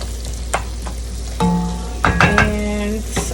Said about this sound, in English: I'm going to let that saute for about 3 minutes